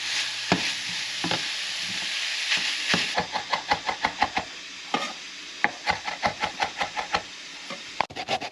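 Beef and onion curry filling in a pan gives a steady sizzling hiss, broken by a run of sharp, rhythmic scraping knocks as it is stirred, close and fairly loud with no voices.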